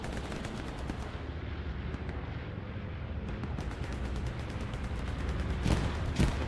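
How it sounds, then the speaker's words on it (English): Incoming rockets and gunfire in the World War II shooter Hell Let Loose, a dense continuous barrage of booms and rattling shots with heavier blasts near the end. "But lots of rockets now coming in."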